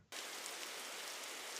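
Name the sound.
rain ambiance sound effect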